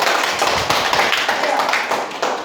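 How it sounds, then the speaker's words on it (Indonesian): Schoolchildren clap their hands together in a dense, continuous burst, loud and close, lasting a couple of seconds. "Ya, kita tepuk tangan dulu"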